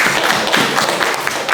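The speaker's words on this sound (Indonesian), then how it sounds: "Terima kasih, tepuk tangan buat Angel." Classroom applause from students during a school lesson, a fairly loud, close patter of hands clapping in uneven bursts with some thumping taps, and no talk over it.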